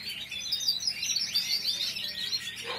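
Young birds in an aviary practise their song, a steady stream of high, thin chirps and twitters that runs without pause and stays fairly soft.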